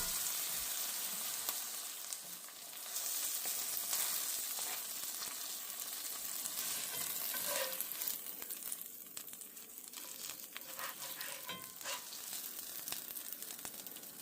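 A quesadilla of corn and flour tortillas sizzling golden brown in a pan, a continuous close frying hiss with light crackles and a brief scrape as it is flipped, no voices.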